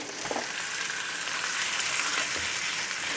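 Shrimp and chopped onion stir-fry in hot oil with a steady, close, even sizzle and crackle throughout, plus a couple of faint soft knocks, with no voices.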